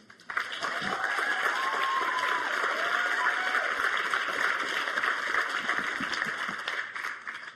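A seminar audience bursts into sustained applause, a broad, even wash of many hands clapping at a steady level for several seconds before tapering off at the end.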